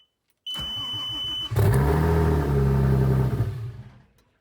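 An Audi S4 engine swapped into an A4 cranks with a whining starter, catches into a loud rumbling idle, then sputters and stalls after about two seconds.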